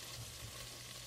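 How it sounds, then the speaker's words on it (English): Flour goes into melted butter in a pan to start a roux for chicken pot pie, giving a brief, soft, steady sizzle heard close by with no voices. "Now I'm going to add the flour"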